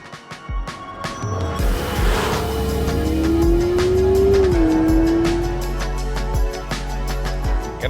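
A smooth, quiet 2026 Honda Prelude two-motor hybrid pulls away from a standstill, a low electric whine rising steadily in pitch over road rumble, with faint ticks and no loud engine roar.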